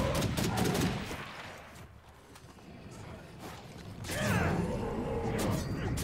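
Unsuppressed gunfire in State of Decay 2, fitted with a muzzle break: bursts of loud sharp shots at the start and again near the end, with a quieter stretch between.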